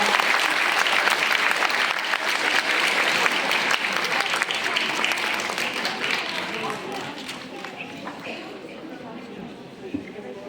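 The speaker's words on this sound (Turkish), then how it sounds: "Xeyralə Hüseynovanı dəvət edirik alkışlarınızla." Sustained audience applause at an anniversary school gathering, a dense, loud wash of clapping lasting throughout and slowly tapering toward the end, with faint voices mixed in.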